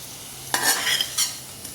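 Poha chivda for Diwali being tossed with curry leaves, green chillies, coriander, turmeric and salt, with two quick close rattling stirs over a light background sizzle, no speech.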